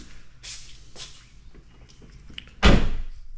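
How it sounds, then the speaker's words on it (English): A door is pushed shut in a garage during car troubleshooting, ending in one loud, close thud after a few softer shuffles and bumps, with no talking. "Let me go and shut that door"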